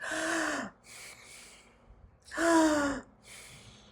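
Loud, raspy breaths drawn in sharply through the mouth, two strained inhales each followed by a shorter breathy exhale, close up.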